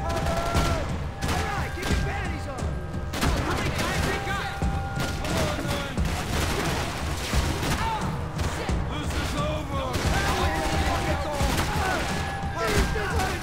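Rapid bursts of gunfire from the video game Max Payne 3, dense and continuous with booms and impacts layered over a busy game soundtrack throughout.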